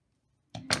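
Scissors trim the ends of card paper in two crisp, close snips in quick succession after a moment of near silence.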